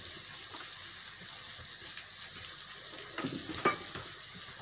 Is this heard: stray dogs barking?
no